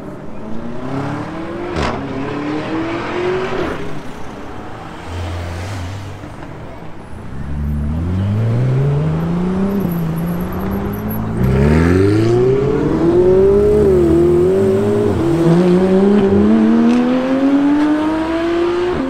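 Flat-six engine in a supercar at a charity track event, revving hard with rising and falling pitch sweeps as it accelerates and shifts through gears, loud and close, with a few voices underneath.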